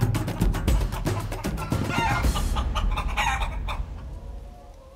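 Chickens cluck loudly and continuously at close range in a henhouse, with a rooster crowing among them, the flock fading slightly toward the end.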